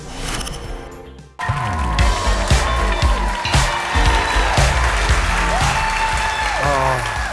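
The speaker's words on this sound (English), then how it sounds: "Clap, clap, clap." Studio audience clapping on a daytime talk show, a dense, loud wash of applause that starts abruptly after a quieter opening and holds steady through the rest, with a voice talking over it.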